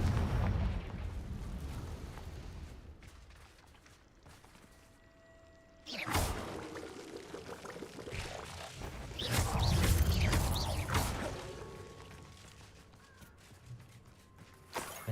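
A Confringo spell in a wizard video game sets off a deep, rumbling explosion, with a sharp blast partway through and a long roaring, crackling tail swelling again before fading.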